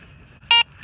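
Garrett ACE 400 metal detector gives a single clear electronic beep on a fresh target while digging for casings in a back yard, a short steady tone over low background hum, with the start of another beep at the very end.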